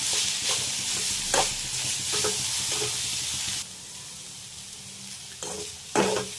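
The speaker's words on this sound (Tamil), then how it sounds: "நல்லா வதக்கிங்க." Carrots and beans sautéing with grated coconut in a pan give a steady close sizzle and hiss, with a few louder scrape-like stirring bursts, the frying dropping to a quieter level midway.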